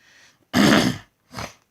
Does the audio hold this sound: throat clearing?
yes